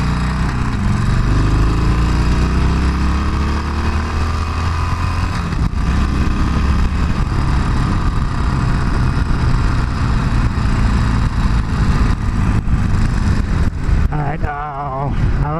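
A Harley-Davidson 48 cruiser's V-twin engine runs loud and close throughout the ride, holding a dense, steady low rumble that only shifts slightly near the end as the revs change.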